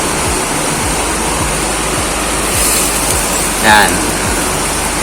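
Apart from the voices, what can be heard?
water dripping from a ring used as splash guard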